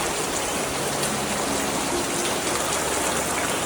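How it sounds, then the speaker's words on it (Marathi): Steady night rain falls continuously, a dense even hiss of drops with no voices, close and fairly soft. "बाहेर पाऊस पडायला सुरुवात झाले"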